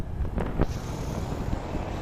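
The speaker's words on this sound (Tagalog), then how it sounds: "O kanami tanin sang hangin, di ba la?" Wind rushes steadily across the microphone in a low, blustery rumble, with a couple of brief gusty thumps early on.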